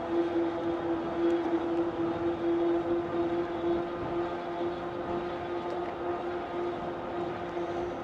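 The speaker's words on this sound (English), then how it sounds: "I hear more of the tires than I do the motor." A Van Powers GrandTeton e-bike rolls along steadily, its tires humming in a constant drone close by, with the motor nearly silent and no voices.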